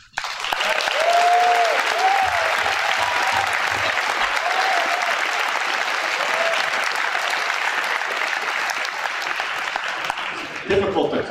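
A school assembly crowd claps for a state championship football team, a long sustained wave of applause filling the hall with scattered cheers and voices mixed in, tapering slightly toward the end.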